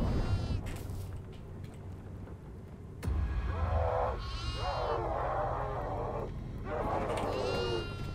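A goat in a video game gives several loud, wavering bleats in quick succession, mixed with other game sounds, while players talk excitedly over it.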